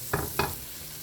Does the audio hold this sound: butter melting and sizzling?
yes